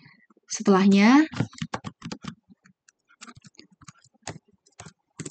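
Computer keyboard typing while coding a Django project, a sparse run of light clicking keystrokes following a short spoken phrase, close and fairly quiet.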